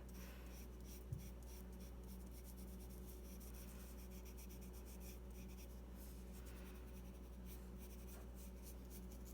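Graphite pencil shading on paper, tilted to the side and swept in curved strokes while drawing a nose, giving a soft, steady close-up scratching and rubbing that runs continuously at low level.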